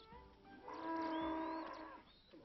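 A single long, drawn-out moo from beef cattle on a farm in the west of the New Forest, fairly close and clear against a quiet outdoor background.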